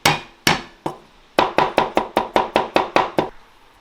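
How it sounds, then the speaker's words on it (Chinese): Ginger is minced with a cleaver on a chopping board for dumpling filling: a few spaced heavy chops, then a quick run of about ten sharp, even strikes, loud and close with no talk. "再剁点姜末在里头。"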